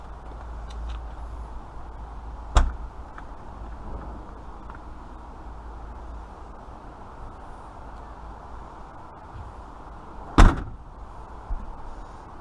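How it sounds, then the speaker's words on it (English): A classic Mini's car door is worked open, two sharp metallic clunks about eight seconds apart over steady low background rumble, close by and without talking. "let's go open that door and see"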